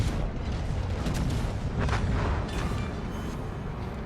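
Battleship main guns of the Mackensen fire in World of Warships, deep rumbling booms rolling on continuously and loudly, with no talk.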